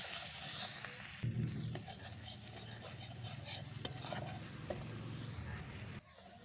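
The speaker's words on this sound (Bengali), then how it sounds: "এবার সবকিছুকে একসাথে খুব ভালো করে ভেজে নেব" Ginger fries in a pan with turmeric, cumin and chili powder for a cauliflower curry, a steady sizzle mixed with repeated stirring scrapes and light clinks, close and continuous.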